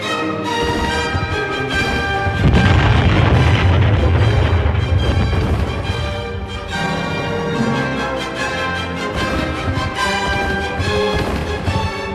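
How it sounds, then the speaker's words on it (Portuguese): Heavy artillery and mortar bombardment of a World War I battlefield at La Lys in 1918 rolls on as dense, continuous booms and blasts, loud and thick, with overlapping detonations swelling and easing throughout, blended with a sustained musical score. "inicia-se um violento bombardeamento de artilharia e morteiros pesados"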